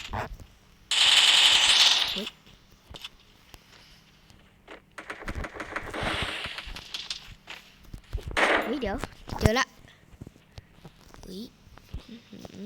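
Bursts of rapid gunfire crackle in and out in the video game Free Fire, with a loud explosion-like blast early, while a voice talks throughout.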